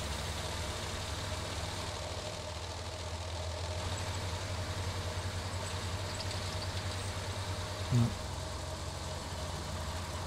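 A truck engine idling in Hell Let Loose, a steady low diesel rumble with a constant hum, faint and unbroken, with one brief thump near the end.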